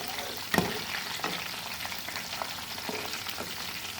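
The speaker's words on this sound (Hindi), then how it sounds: "चिकन पकोड़े हमारे मीडियम फ्लेम पर हम फ्राई कर रहे हैं।" Chicken pakoras fry in oil over a medium flame, a steady close sizzle with a few soft stirring knocks and pops, no one speaking.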